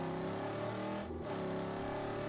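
A car driving in the Mad Max video game, a steady engine drone held at an even level the whole time, with a brief dip partway through.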